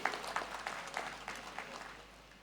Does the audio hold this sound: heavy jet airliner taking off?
no